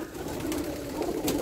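Pigeons coo softly inside a loft, low throaty calls repeating under a steady background murmur, fairly close and moderately loud throughout.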